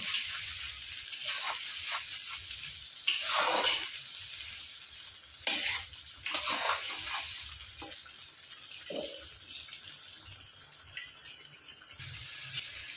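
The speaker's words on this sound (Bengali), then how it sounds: "আদা, পেঁয়াজ, রসুনটা ভালো করে আমি কষিয়ে নেব।" Ginger, onion and garlic paste fries for a mutton curry with a soft steady sizzle, punctuated by a few louder scraping stirs in the pan, close and fairly quiet with no talking.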